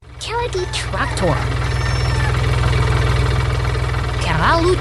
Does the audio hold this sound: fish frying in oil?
no